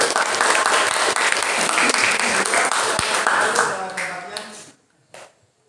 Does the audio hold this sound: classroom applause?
yes